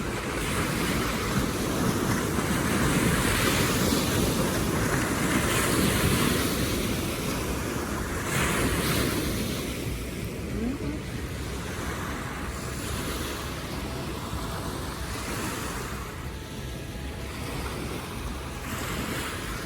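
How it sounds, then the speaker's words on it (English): Water and steady wind on the River Thames at night near Tower Bridge in London, a continuous broad wash with surf-like lapping and gusting microphone wind, loud at first then easing slightly, with no voices. "So this is Thames River."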